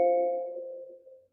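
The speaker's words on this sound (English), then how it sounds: "That must be the doorbell." A single doorbell chime rings out clearly and fades away over about a second, with no voices or other sounds around it.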